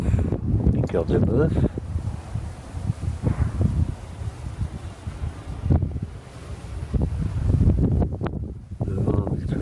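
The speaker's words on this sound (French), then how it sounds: "Le vent est toujours là" Wind gusts buffet the microphone in a garden of large ribbed and beefsteak tomato plants, a steady low rumble with rustling that runs throughout beneath someone speaking French.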